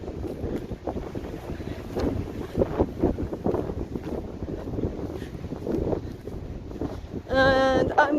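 Wind buffets a microphone outdoors in an open, windy place, a constant rumbling roar with gusty swells throughout and a brief tonal whine near the end.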